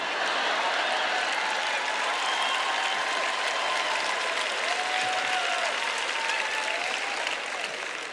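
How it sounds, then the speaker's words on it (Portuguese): An audience at a church sermon claps loudly, giving steady sustained applause from a crowd with a few faint voices mixed in. "E bata a palma bem alto"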